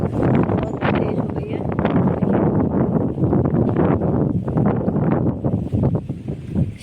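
Strong night wind buffeting the microphone and shaking a green plant's leaves just before rain, loud gusty roaring and rustling that surges and dips throughout.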